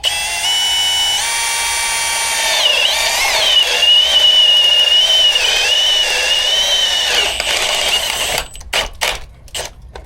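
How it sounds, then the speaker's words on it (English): A power drill whines steadily at high pitch for several seconds drilling into a wall, then stops, followed by a few sharp knocks and clatters nearby. "we want to drill that at that angle"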